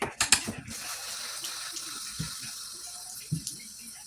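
Tap water runs and splashes into a sink during face rinsing with a warm washcloth, starting with a few loud splashes and then settling into a steady close trickle with occasional bumps and drips.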